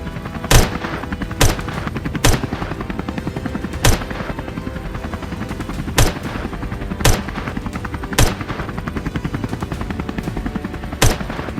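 Rifle shots fired during a hunt from a helicopter ring out as about eight sharp, loud cracks at irregular intervals over a continuous rotor drone.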